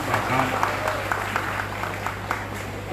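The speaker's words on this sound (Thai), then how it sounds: "ปรบมือให้ท่านสสสุทินคลังแสงนะครับประธานวิปฝ่ายค้าน" An audience applauds MP Sutin Khlangsaeng, opposition chief whip, at a 68th birthday celebration for Adisorn Piengket. Steady, dense clapping with scattered sharper claps fills the room throughout.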